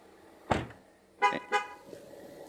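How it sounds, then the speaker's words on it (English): A parked car gives short warning toots: one sharp blast, a pause, then two quick toots close together, fairly close in a quiet space with faint background hum. "that's just my car warning me"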